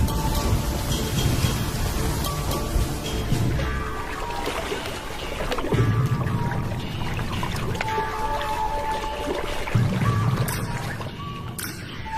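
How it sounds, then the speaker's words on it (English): Steady heavy rain pours down in a dense, continuous hiss in the African wild, with a faint low rumble underneath and no voices. "The first real rains for a year."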